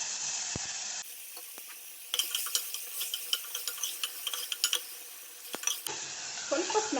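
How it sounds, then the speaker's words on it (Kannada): Mustard seeds splutter in a tempering as tomato is added, a soft sizzle with rapid scattered pops and stirring clinks, fairly quiet and alone. "ಸಾಸಿವೆ ಸಿಡಿತಾ ಇದೆ."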